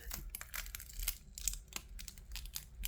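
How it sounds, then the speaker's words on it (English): Onion skin is peeled back by hand, giving close, quiet crinkling and tearing crackles in short irregular bursts. "Let me just peel this back a little bit,"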